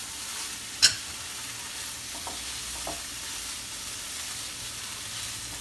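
Fish laab being stirred and mixed with lime juice, soft wet scraping and mixing sounds close by, with one sharp clink of a utensil early on and faint rubbing noises afterward, no voices.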